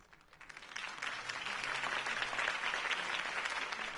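A crowd breaks into applause after a mayoral campaign speech for Harvey Dent, the clapping swelling within the first second and holding as a dense, loud, sustained roar of many hands.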